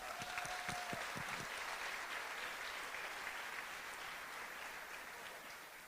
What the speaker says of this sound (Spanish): Un aplauso para esta familia numerosa.